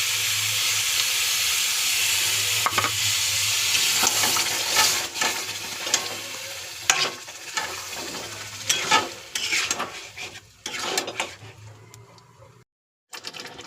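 Coriander chicken fries in a pan with a steady hiss and sizzle, broken by repeated scraping stir strokes that grow more frequent, before the sound briefly cuts out near the end.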